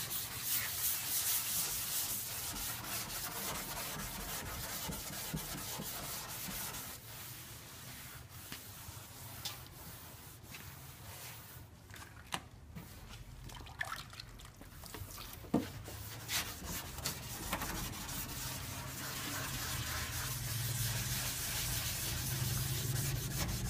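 Wet sanding of a car body with ice-cold water before painting, a continuous rasping, rubbing scrape that runs steadily throughout at close range, with brief sharper scuffs in the middle.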